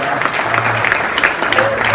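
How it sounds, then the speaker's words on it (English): An audience claps and cheers in a lively burst of steady applause that fills the room, with a voice or two cutting through the crowd noise. "So let's cheer for them."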